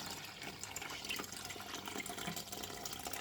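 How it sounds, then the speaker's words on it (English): Soaked bean mixture for akara being sieved to strip off the chaff, a continuous splashing, sloshing water sound close by with no pause. "Then you now sieve it. See, I sieve out the shaft. Just sieve it."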